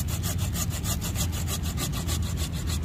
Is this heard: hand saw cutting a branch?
yes